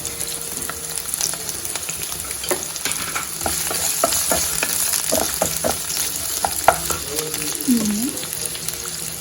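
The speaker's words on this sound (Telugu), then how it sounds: "ఆనియన్, క్యాప్సికమ్, క్యారెట్ ఇవి ముందు కొంచెం ఫ్రై అవ్వాలి" Onion, capsicum and carrot frying in hot oil, a steady close sizzle broken by frequent clicks and scrapes of stirring, with a faint voice briefly in the background.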